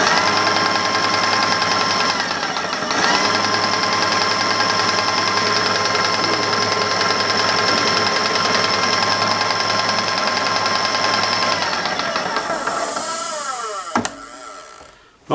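Graco ProXchange paint sprayer pump running after being lubricated, a steady loud mechanical whir with a continuous hum and rattle that holds for about twelve seconds, then winds down and stops with a clunk.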